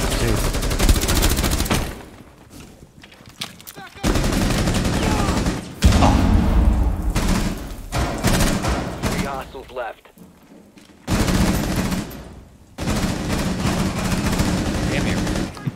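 Bursts of video game gunfire during a tactical shooter round, loud rapid volleys separated by quieter gaps, with players talking over and between the shots.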